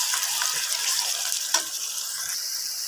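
Onions with ginger garlic paste sizzle in a pan for chicken karahi while being stirred, a continuous loud frying hiss with scraping stirs and one sharper clatter.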